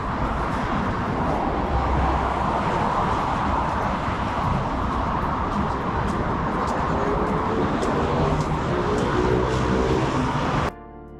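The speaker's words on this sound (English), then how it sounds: "Sorry for the traffic noise" Steady highway traffic roaring below a pedestrian overpass in Kampung Baru, Kuala Lumpur: a dense, continuous rush of passing vehicles that holds loud throughout, then cuts off abruptly near the end.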